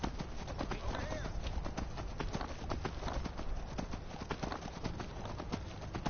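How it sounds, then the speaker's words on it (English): A horse galloping under its rider in the fantasy game Skyrim, with a rapid, steady clip-clop of hooves close by and a brief whinny, under a talking voice. "Sorry, galloping. It's just easier to continue riding."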